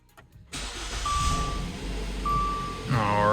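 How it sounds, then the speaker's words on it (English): A 2013 Dodge Dart GT starts up: a short crank, then the engine catches and settles into a steady idle, with a couple of thin electronic chimes from inside the car and a rising whir near the end. "So first, you just wanna start the car up."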